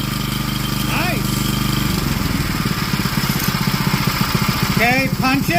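Small BILT HARD 7HP 212cc engine idling with a steady chugging beat, then revving up as the throttle is opened, loud and close.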